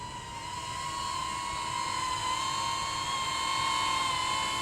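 A DJI Neo 2 drone flying back toward the pilot, its propellers giving a steady, high whine with a strong tonal hum that holds level and loud throughout, with no talking.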